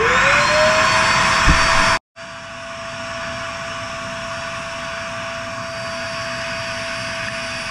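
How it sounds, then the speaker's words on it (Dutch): A loud fireplace ash vacuum cleaner whines steadily with a high motor tone, briefly cutting out around two seconds before starting up again and running on. "Het is een haardstofzuiger."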